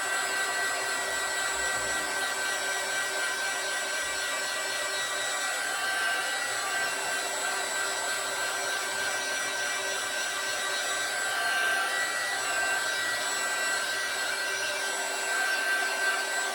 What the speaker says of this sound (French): pour le bruit du heat gun